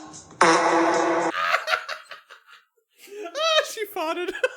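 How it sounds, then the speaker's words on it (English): A loud, buzzy fart lasting about a second, followed by a short pause and then bursts of laughter from people nearby. "Ah, she farted."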